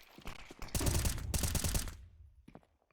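Bursts of rapid automatic gunfire trade back and forth in a Counter-Strike match on the Ancient map. The spray is loud and dense, then cut off, followed by a few scattered shots.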